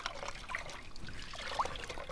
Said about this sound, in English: Wring them out.